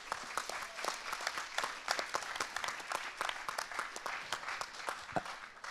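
A small audience claps steadily for several seconds at a startup pitch contest in Lorient, a light, moderately close patter of many hands with no voices.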